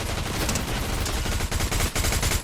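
Rapid automatic gunfire from a mobile battle-royale shooter game, loud and dense, with continuous bursts of shots and clattering reports filling the whole stretch without pause.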